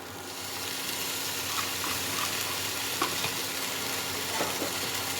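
Potato filling for aloo chop being stirred and mixed in a pan, a steady soft sizzling scrape with faint spatula knocks throughout, no talking.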